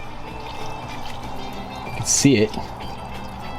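Water poured and recirculated through a mash of brewing grains held between two filters, a soft trickling pour under steady talk, with a brief louder splash partway through.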